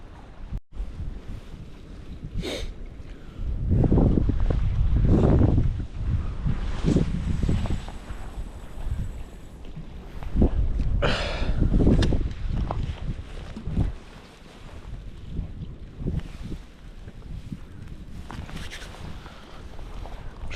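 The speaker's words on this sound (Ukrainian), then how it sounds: "Вітер такий свищий, конечно" Strong gusts of whistling wind buffet the microphone in surging waves beside the Dnipro river, roaring and rushing for about twenty seconds with no talking.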